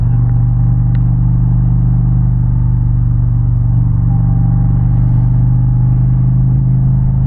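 Indian Challenger motorcycle riding on a highway, its exhaust giving a steady, loud low rumble that runs unbroken throughout, close to the microphone.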